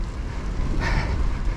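Cold, wet wind at about 7 degrees blows hard across the microphone, a continuous low rumbling buffet with a brief brighter gust in the middle.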